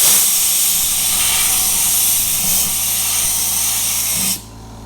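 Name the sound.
California Air Tools air compressor blowing air to spin a polishing pad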